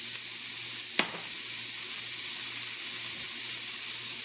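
Chopped onion hits a preheated pan over medium-high heat with one sharp sizzle, then settles into a steady, even frying hiss that carries on alone without any talking.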